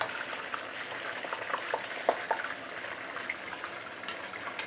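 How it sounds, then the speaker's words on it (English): Fish frying in a pan of hot oil for ikan tiga rasa, a steady close crackle and sizzle with scattered sharper pops, no voices. "fry for about 1 to 2 minutes before you flip it over"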